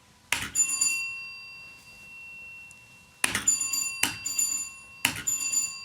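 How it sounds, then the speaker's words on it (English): A bright electronic chime from a solar-powered wired doorbell rings four times, one strike near the start and three in quick succession later, each with a ringing tone that fades out. "Our doorbell is now running off solar power."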